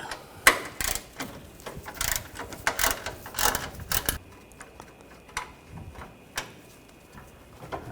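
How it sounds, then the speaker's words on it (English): A ratchet fitted with a 10mm socket works a bolt loose on a 2002-2006 Honda CR-V 2.4L intake runner, producing rapid close clicking bursts in uneven runs, then a few sparser ticks. "Now remove this bolt, use a 10mm socket."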